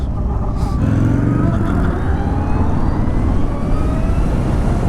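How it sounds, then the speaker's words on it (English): A LiveWire ONE electric motorcycle accelerating under light throttle, a steady close whine with rising tonal sweeps over heavy wind and road rumble, continuous and loud. "I'm just like barely pressing the throttle and it just"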